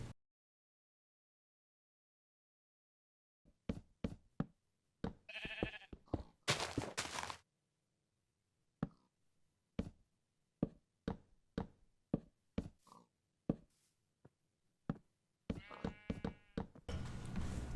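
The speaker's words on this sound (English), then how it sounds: "Get out of the way, sheep." Sheep bleating in the Minecraft video game, a series of short, sharp bleats, several close together, that recur through the clip with quiet gaps between them.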